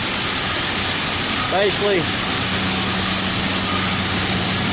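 A pallet-making machine's bandsaw with seven cutting heads runs as a loud, steady mechanical drone with a low hum, while a voice briefly speaks over it.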